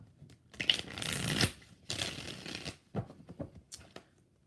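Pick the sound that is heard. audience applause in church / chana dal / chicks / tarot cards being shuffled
tarot cards being shuffled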